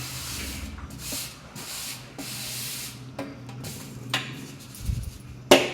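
Puttani chutney powder is spooned and scraped into a jar, giving close, intermittent gritty rubbing and scraping strokes with a few sharper clinks of spoon against the container.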